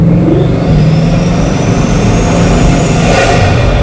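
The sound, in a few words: Bugatti Mistral engine induction noise while accelerating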